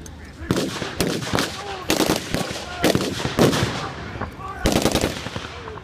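A 30 caliber machine gun fires in repeated short bursts during a battle re-enactment at an armed forces event in Trowbridge, loud sharp rattling volleys with brief pauses between.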